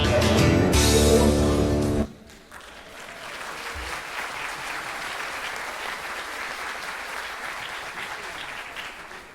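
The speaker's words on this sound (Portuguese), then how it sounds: "essas palmas aí" After a loud burst of music ends abruptly, an audience at a lecture during a congress breaks into steady applause that continues evenly at moderate volume to the end, with no talking over it.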